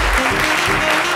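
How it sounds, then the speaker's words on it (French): Studio audience applause on a midday television show, a loud dense burst of clapping that fills the whole moment, with some low tonal background underneath. "Décernez-lui les applaudissements qu'il mérite."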